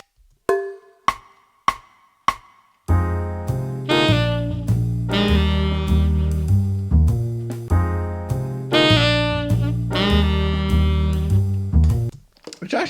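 On a keyboard instrument, a jazz ii-V-I progression is played as guide tones, with the seventh resolving to the third. A few sparse struck notes come first, then sustained chords with bass move through the changes in a steady rhythm, close and clear.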